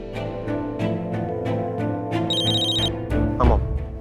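A telephone rings with a repeating electronic bell pattern over background music in a TV drama scene, a few bright bursts in steady rhythm, close and clear with no talking.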